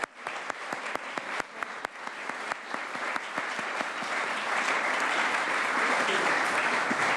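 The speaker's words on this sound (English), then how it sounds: "Let's give one more round of applause for all of our volunteers today." A crowd applauds volunteers at an annual recognition ceremony, starting with distinct individual claps that swell into steady, full applause.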